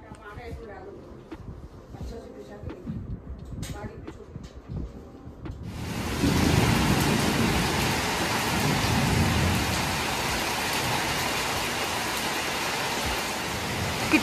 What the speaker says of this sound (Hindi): देखिए बारिश ही बारिश हो रहा है।